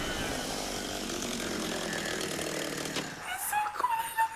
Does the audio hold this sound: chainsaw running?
yes